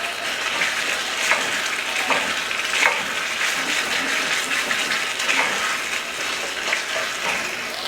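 Korean style BBQ sauce being stirred in a pot, a steady wet sizzling and swishing with soft clinks of the utensil repeating every second or so, fairly close and continuous, with no talking.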